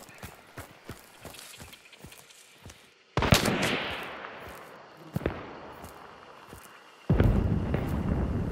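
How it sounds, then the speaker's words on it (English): Gunfire in Hunt: Showdown: a steady run of faint, distant pops, then several louder, closer shots and bursts ringing out against a noisy outdoor background. "She's shooting at me, I think, but she can't pen that, so she's not hitting me."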